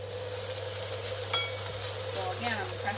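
Pressed rice fries in a pot with a little oil, giving a steady close sizzle with scraping and stirring, over a low electrical hum.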